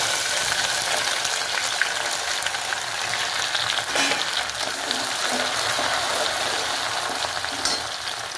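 Ginger-chili paste with bay leaf and cinnamon sizzles in hot oil for rajma tempering, a steady close frying hiss throughout with occasional stirring scrapes and crackles, no talking.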